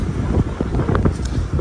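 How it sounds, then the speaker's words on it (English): Strong gusty wind buffets the microphone at a cruise port in Curacao, a loud, rough, continuous rumble with uneven surges and no speech. "It's too windy"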